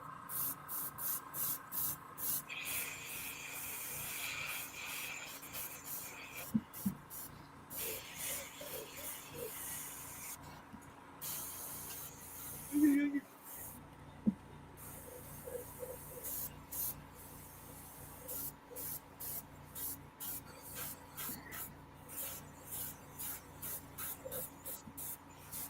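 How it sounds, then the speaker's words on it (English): An airbrush sprays paint in short, repeated soft hissing bursts, fairly quiet and close, with faint handling clicks and rustles in between. "while I have this in my airbrush"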